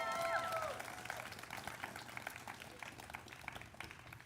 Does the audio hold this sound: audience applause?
yes